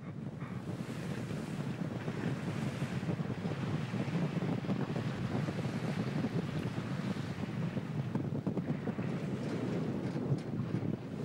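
Rough, choppy sea and strong wind roar steadily aboard the 70-metre yacht Sibaris off the coast of Miami, with continuous wave wash and buffeting wind noise across the microphone and no pauses.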